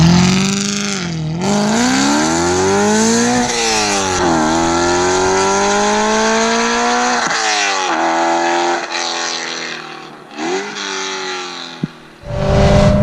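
A BMW M3 fitted with an Armytrix exhaust revs hard and loud close up, rising and falling through several pulls and then dropping off, with a sharp crack near the end.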